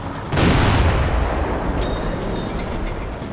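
In the war strategy game Blitzkrieg, a heavy artillery boom hits and then gives way to a sustained, loud, rumbling roar of explosions and fire that continues steadily to the end.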